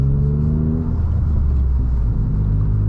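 Toyota GR Corolla hot hatch with a manual gearbox pulling through a tight turn, a close, deep engine drone with low harmonic hum that shifts pitch slightly as it rolls around.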